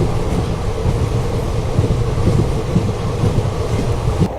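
The Patna Kota Express overtakes on the parallel track, a loud continuous rumble and rattle of rolling railcars heard from a moving train, mixed with wind noise and steady throughout.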